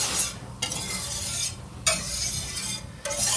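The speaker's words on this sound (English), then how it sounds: "And I'm just going to stir" Chicken piccata sauce being stirred in a hot pan as it thickens. A steady sizzle sits under a few distinct spoon scrapes, all close and fairly loud.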